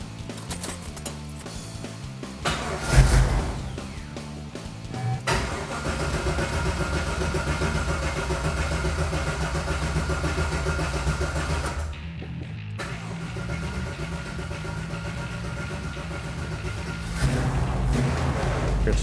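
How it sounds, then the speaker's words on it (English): A V8 engine fitted with a new Street Demon carburetor cranks and fires, then settles into a steady, loud idle with a rising rev near the end, no talking over it. "It started right up once the carburetor was primed with fuel."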